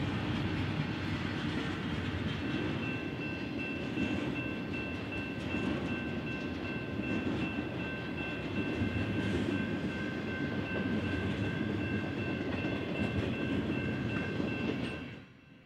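A BNSF freight train rolls along the former Santa Fe Marceline mainline, a sustained rumble and wheel clatter with faint high ringing tones, holding steady before cutting off at the very end.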